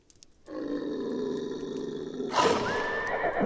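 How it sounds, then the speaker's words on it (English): Horses whinny and snort up close in the video game Sang-Froid, stirred by a wolverine prowling outside; a sustained neigh runs for a couple of seconds before a sharper, louder squealing whinny breaks in. "Sounds like a wolverine's outside spooking our horses."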